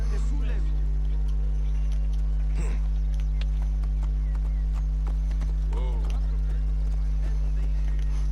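A horse walks in Assassin's Creed Origins, its hooves giving a soft, regular clip-clop beneath a constant low hum and game ambience, with faint scattered sounds mixed in.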